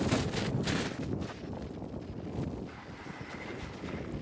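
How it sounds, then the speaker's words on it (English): Strong gusting wind buffets the microphone on a seaside quay at Wells-next-the-Sea, Norfolk, with a high tide, a loud rumbling roar that swells and eases with no one speaking. "Oh, it's windy."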